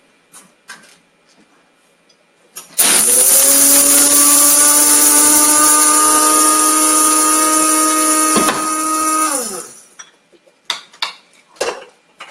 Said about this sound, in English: Hey, I have an electric grinder.